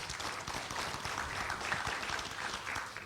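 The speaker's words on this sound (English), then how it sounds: "Can we give them all a big round of applause?" Dense applause from a large audience at a forum launch ceremony, a continuous wash of many hands clapping at steady loudness throughout.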